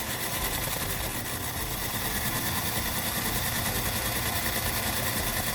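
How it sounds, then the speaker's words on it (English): A variable speed drill spins a cleaning brush on a rod through the duct of a 2008 GE Profile gas dryer, giving a steady, continuous motorized whir with a constant buzzing drone close by. "it's good to have a nice variable speed drill. That way you can control the RPM."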